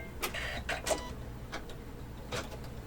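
An embroidery machine stitches a zigzag applique line, giving a faint, even mechanical whir with soft rhythmic clicks of the needle, heard close by with no talking.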